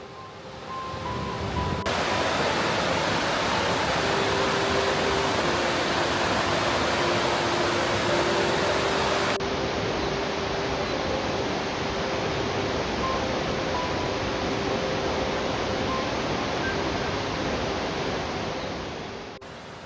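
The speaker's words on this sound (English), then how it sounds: "Ginga Falls is taller at around 120 meters, flowing in a thinner, more delicate stream beside it." Ginga Falls, a thin waterfall about 120 meters tall among cliffs and forest in Daisetsuzan, Hokkaido, gives a steady, loud broadband rush of falling water that continues without a break.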